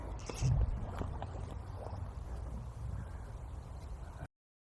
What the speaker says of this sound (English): the river's really racing through